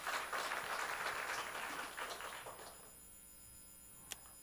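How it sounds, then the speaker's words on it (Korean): A church congregation at a Sunday service claps for a member's birthday, a fairly faint, dense patter of hands that fades out after nearly three seconds, followed by quiet room tone and a single small click. "박수."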